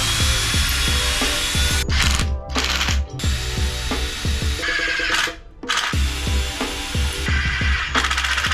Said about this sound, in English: I drilled pilot holes first before securing everything with 2-inch wood screws.